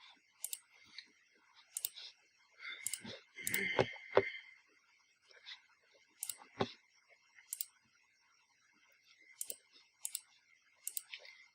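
A computer mouse clicks repeatedly, giving short sharp ticks, some single and some in quick pairs, at irregular intervals, close and quiet against near silence.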